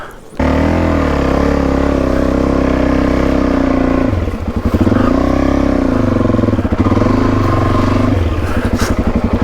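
A dirt bike engine revs hard while climbing a steep hill on an Australian trail, a loud, close, continuous roar with throttle swells and dips throughout.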